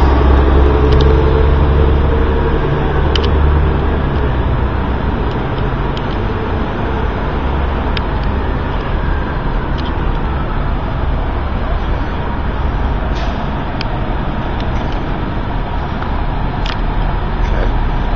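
SEPTA city buses roll in from their loop at a stop where riders get off, a continuous low rumble of engines and traffic heard from a distance, with a voice talking over the steady roadway noise.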